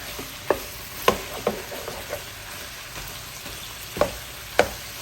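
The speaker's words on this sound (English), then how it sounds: "It's just enough to cook my onions." Onions frying in pork fat in a home kitchen, with a steady low sizzle and a few scattered sharp pops and stirring clicks, close by and otherwise quiet.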